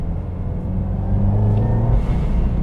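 A twincharged Subaru WRX engine pulls from about 2000 RPM, a steady low rumble that swells and grows louder partway through, heard close and alone.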